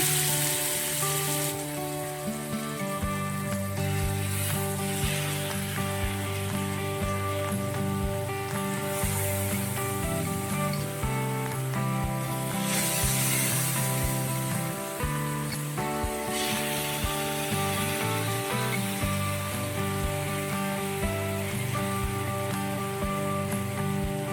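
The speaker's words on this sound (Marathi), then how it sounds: "आणि हे मीडियम आचेवर आपल्याला शेलो फ्राय होऊ द्यायचे आहे" Paneer tikka shallow frying in hot oil over medium heat in a pan, a steady close sizzle and crackle running the whole time over a music bed, without speech.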